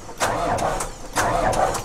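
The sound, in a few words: CAT excavator engine cranking, failing to start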